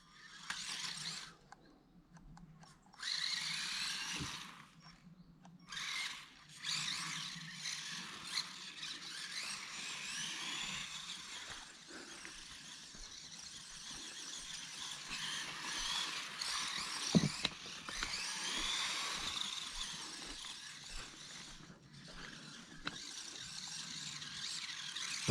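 Mini RC car drifting across a floor, its small tires squealing in repeated bursts of varying length, fairly close and moderately loud, with brief pauses between slides and no talk.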